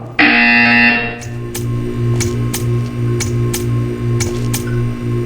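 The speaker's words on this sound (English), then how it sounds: "You will hear a buzzer." A loud, harsh buzzer from Portal 2 blares for about a second, then stops, leaving a humming tone with faint repeated ticks.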